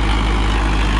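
A Sonalika DI-750 III tractor runs steadily while pulling an 8x8 disc harrow, its engine a loud, continuous low rumble close by with no talk.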